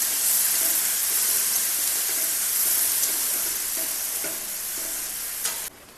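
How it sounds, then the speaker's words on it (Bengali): Chopped onion sizzles steadily in a hot pan while being stirred for a Bengali village-style banana flower dish, a loud, even frying hiss that cuts off sharply just before the end. "পেঁয়াজটা এখন নেড়ে নিচ্ছি"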